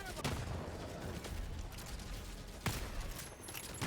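Gunfire in the video game Helldivers 2 crackles in rapid bursts, with sharp loud reports standing out around one and three-quarter and two and three-quarter seconds amid a busy, noisy battle mix.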